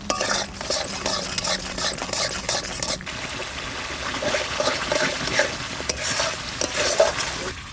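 A cauliflower korma sauce with yogurt, salt and a little sugar simmers in a pan while a spoon stirs it, giving a soft, bubbling sizzle and repeated scraping strokes. The sounds come up close and moderately loud, with no talk.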